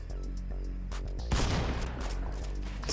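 Gunfire rings out in a competitive battle royale shooter game: a few sharp taps early on, then a heavier burst of rapid shots around the middle that rattles and trails off amid game noise.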